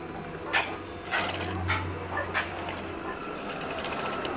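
Sewing machine stitching along the end of a curtain hem, a steady mechanical whir with brief louder bursts of needle clatter, close and continuous with faint background noise.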